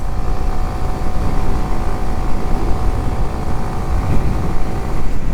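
A Kawasaki Ninja 125 motorcycle engine running steadily and loudly at close range while gears are shifted without the clutch, a continuous droning hum with slight rises in pitch.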